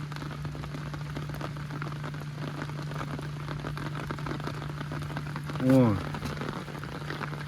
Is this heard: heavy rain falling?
yes